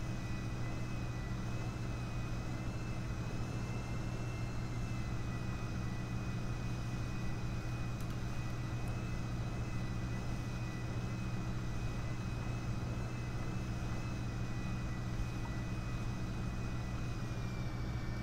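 A fixed-wing airliner in GTA 5 holds on the runway before takeoff, its engines giving a steady, continuous drone with a low rumble and a faint high whine throughout, no voices.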